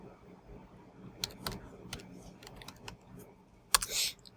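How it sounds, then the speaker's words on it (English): Keystrokes on a computer keyboard as a password is entered at an SSH login prompt, a quiet scatter of separate clicks spread across a few seconds over low room hiss, ending in a brighter, louder burst of rapid clicks. "I have to type in my password every time I try to log in."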